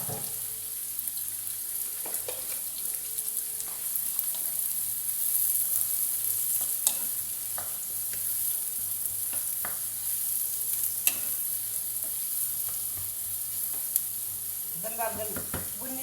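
Chopped onions fry in a pan, stirred now and then, giving a soft, steady sizzle with occasional scrapes and clinks of the utensil, fairly quiet and close, no voices.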